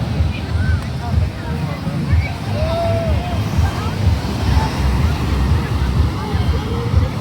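Surf washing onto a US beach along the ocean shore, a steady broadband roar of breaking waves with heavy wind buffeting the microphone, continuous and fairly loud, with faint voices underneath.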